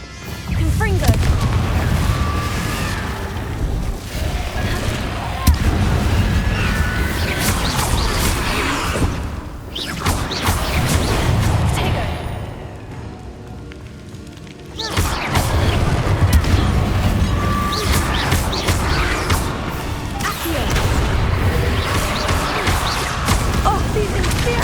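Fiery Confringo spell blasts in the Hogwarts Legacy video game land as repeated heavy booms and explosive bursts amid dense combat noise, with two brief near-silent gaps in between.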